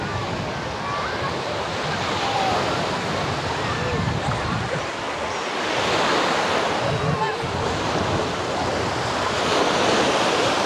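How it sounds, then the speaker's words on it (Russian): Small waves wash onto a crowded public beach at Vityazevo near Anapa on a mildly choppy sea, a continuous loud roar of surf with wind buffeting the microphone and slight swells in intensity. "На море небольшое волнение."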